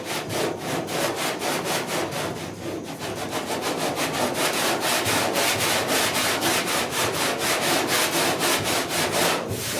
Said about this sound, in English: I'm just sanding away here until I get it down where I kind of like it